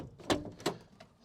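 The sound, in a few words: door opening on a 1969 Chrysler Town & Country wagon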